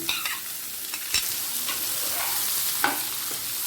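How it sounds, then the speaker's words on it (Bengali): Chopped onions fry in hot oil with a pinch of garam masala over a medium-high gas flame, giving a steady close sizzle broken by a few sharp clicks and scrapes of stirring. "পেঁয়াজটাকে একটু লাল করে ভেজে নেব"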